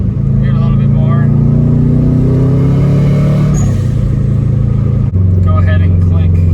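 A Subaru Forester STI pulls hard under turbo boost, its engine drone climbing steadily in pitch through the gears with a brief dip at a shift, loud from inside the car, while a person talks over it.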